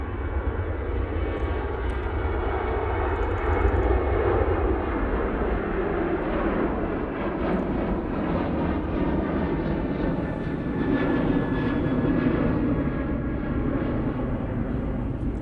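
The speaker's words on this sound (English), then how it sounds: "Ryanair now on the roll using the 737-800." A Ryanair Boeing 737-800 rolls down the runway for takeoff at Manchester Airport, its jet engines producing a loud, continuous roar that builds and holds steady throughout.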